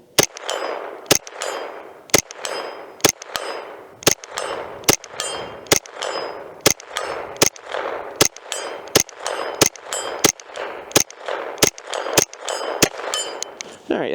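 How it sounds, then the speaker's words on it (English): A Derya TM22 .22 tactical rifle fires a long series of sharp, evenly spaced shots outdoors, roughly one per second, each crack followed by a brief ringing tail and a faint metallic ping. "But let's shoot some more, because we got some more rounds in here."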